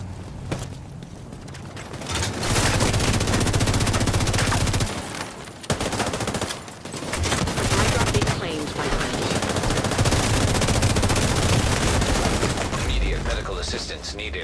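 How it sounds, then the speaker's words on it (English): An assault turret fires in a video game, long bursts of rapid automatic gunfire with mechanical clatter, loud and sustained with brief pauses, while game voice lines occasionally speak over it. "assault turret detected."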